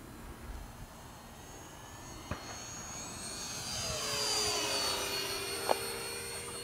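E-flite A-10 Thunderbolt II 64mm electric ducted-fan RC jet making a presentation pass, its whine rising and sweeping across as it flies by at moderate distance, fairly faint outdoors.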